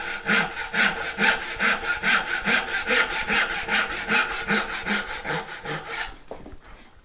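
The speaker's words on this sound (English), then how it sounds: "pushing the saw side to side so that I can guide the saw a little better" Hand saw cutting half-blind dovetails in wood: steady, rhythmic back-and-forth rasping strokes, close and fairly loud, about a dozen even strokes before stopping abruptly near the end.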